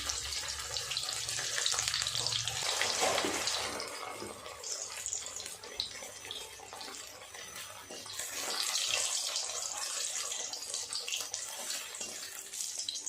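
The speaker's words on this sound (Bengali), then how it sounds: "এইভাবে উল্টে পাল্টে বলগুলোকে ভাজা করে নেব" Balls of flour dough deep-frying in hot oil for a maida vegetable dish make a dense, even hiss and bubbling that swells and eases as they are turned, heard close and without voices.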